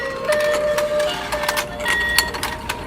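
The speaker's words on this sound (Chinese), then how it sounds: "那我们开启开关来看一下它的电动的模式哦" An electric duck stair-climbing and duck-fishing toy set with lights and sound effects runs steadily, giving off a continuous mechanical whir under bright chiming electronic tones and beeps, close and fairly loud throughout.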